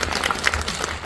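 Audience applause at a cinema Q&A event in a Korean multiplex theater, celebrating a director and actor Ryu Jun-yeol; a brief, dense wash of clapping from a seated crowd, steady and moderately loud throughout.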